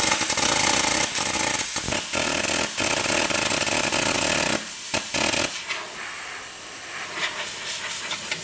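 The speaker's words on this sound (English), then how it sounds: "this plasma cutter sounds so bad" Plasma cutter slicing through thick metal, a harsh continuous hiss broken by short stops and restarts, then dropping to a quieter, rougher hiss for the last few seconds.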